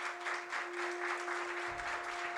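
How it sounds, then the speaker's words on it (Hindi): Applause at a book launch event with a Union Minister present, continuous clapping of a crowd heard somewhat faint and distant, with a steady tonal hum running underneath. "तालियां रुकनी नहीं चाहिए।"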